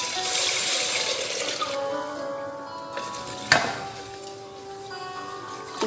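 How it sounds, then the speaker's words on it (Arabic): Water from three bowls is poured into rice in a pot over fried onion, splashing and hissing in several pours, with clinks of the bowl against the pan and faint sizzling between. "من بعد تنزيدوا هاد 3 الزلايف ديال الماء"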